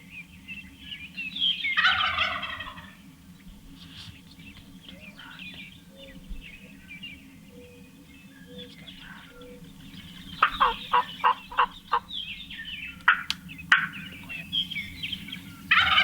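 A wild Merriam's turkey gobbles in open timber beside a logging road, several bursts of gobbling ringing out at moderate distance, the later calls sharper and more rapid, with no talk over them.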